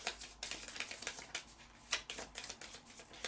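A deck of Shadespire game cards being shuffled, a quick run of crisp papery riffles and flicks in uneven bursts, close and fairly soft.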